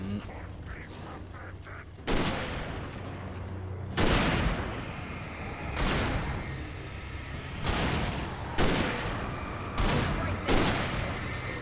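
Shotgun blasts in a horror video game, a series of about six loud, booming shots spaced roughly two seconds apart, each with a sharp crack and decaying tail over a low background hum.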